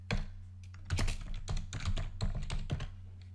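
Typing on a computer keyboard, a quick close run of crisp keystroke clicks over a low steady hum, irregular taps in rapid succession.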